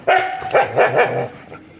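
A stray dog barks on the street in Kochi, India, giving three or four close, loud barks in quick succession with some whining between them and no voices.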